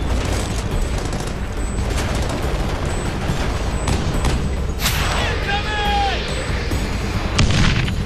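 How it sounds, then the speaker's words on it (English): Heavy mortar fire during a battle on a snowy mountain peak at Takur Ghar in Afghanistan: dense, continuous booming and crackling explosions with a brief descending whistle partway through, while a voice speaks over the din. "They're under heavy mortar fire."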